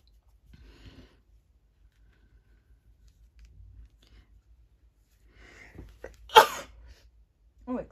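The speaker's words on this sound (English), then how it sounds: "Big sneeze." One sharp, loud sneeze bursts out close by after a long stretch of near silence broken only by faint rustles, and a short voiced sound follows right after.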